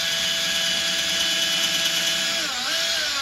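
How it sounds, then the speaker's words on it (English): A power drill bores into wood while mounting a guitar wall hanger, a steady, loud high-pitched whine that holds for about three seconds and dips briefly near the end, with no talking. "And then we just drilled into the wood, right?"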